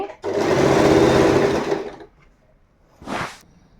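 An Usha electric sewing machine stitches a fall onto a saree in a loud, continuous whirring run of about two seconds, then stops, followed by a brief second burst of stitching.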